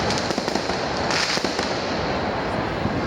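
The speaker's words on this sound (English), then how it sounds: "Why do you do firework on your terrace?" Fireworks set off from a terrace in Seville crackle and pop continuously nearby, a dense loud barrage of bursts with a few sharper bangs and no talk over it.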